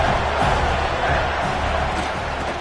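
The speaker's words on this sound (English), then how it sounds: "here comes the noise. This crowd is trying to inspire this defense to make a big red zone stop" A football stadium crowd roaring to urge on the home defense near the goal line, a loud, dense, sustained wash of cheering and shouting that barely changes from start to end.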